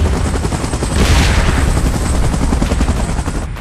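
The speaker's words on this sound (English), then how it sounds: "Chopper in position." A helicopter in the PUBG Mobile video game roars loud and steady throughout, its dense rotor and engine drone filling the whole clip with no voices.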